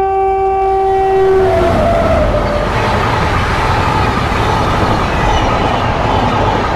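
A fast train on the Kazipet–Peddapalli main line sounds a loud, sustained horn at the start, then roars past nearby with a dense rushing rumble and rattle of wagons that continues to the end.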